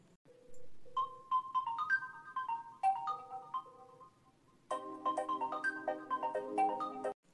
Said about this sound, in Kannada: ಫೋನ್ ಬಂತು, ನನ್ನ ಮಗಳು ಫೋನ್ ಮಾಡ್ಯಾಕ ಅನ್ಸುತ್ತಾ.